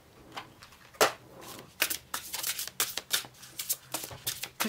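Oracle cards being handled and drawn from a deck, with a close run of crisp, papery flicks and riffles in an uneven rhythm and no voice.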